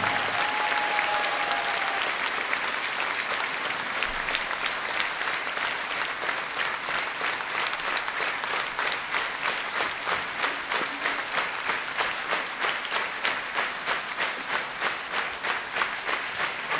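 A concert crowd applauds an orchestra and its conductor in a long, full ovation that settles into rhythmic unison clapping, loud and sustained with little talk.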